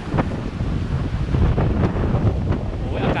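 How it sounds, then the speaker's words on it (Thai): Wind buffets the microphone on Saikaew Beach at Koh Samed, a loud rough rumble with irregular gusts and surf-like wash underneath. Faint voices can be heard in the background. "โอ้ยอากาศเป็นลมเย็นด้วย"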